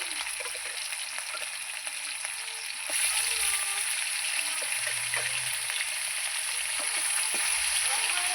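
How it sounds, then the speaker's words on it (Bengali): Fish pieces go one by one into hot oil. A soft background sizzle jumps to a louder, fuller frying hiss about a third of the way in and then crackles steadily. "এই যে তেল আমার গরম হয়ে গেছে এবার আমি মাছগুলো এক এক করে ভেজে নেবো"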